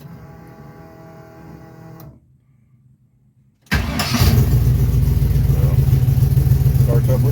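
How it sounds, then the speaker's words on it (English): A Chevrolet S-10 pickup engine cranks on the key and catches, jumping straight into a loud, rough, steady running roar after a short quiet pause; the engine has a fouled spark plug. "Starts up with the key."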